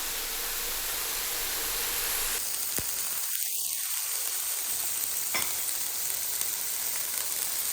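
Frozen burgers sizzle steadily on a Drew Barrymore Beautiful electric griddle set to 350 degrees, a constant loud hiss of frying fat with a faint high whine and a couple of brief clicks, no voices.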